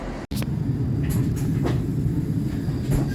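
Interior of a Zurich S18 commuter train in motion, a steady low rumble with a brief dropout near the start and a few faint clicks and squeaks above it.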